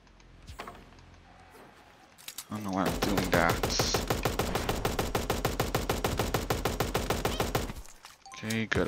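A Tommy gun in Super Animal Royale fires a long, rapid, evenly spaced burst of crisp shots lasting several seconds, loud and close, after a quieter lead-in.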